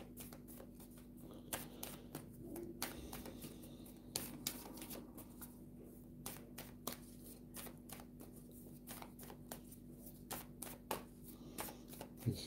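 Tarot cards being shuffled for a cartomancy reading, a steady run of quick papery riffles and snaps close by, continuing throughout with no talk and a faint steady hum underneath.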